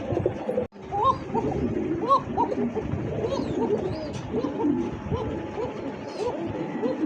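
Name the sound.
pigeon cooing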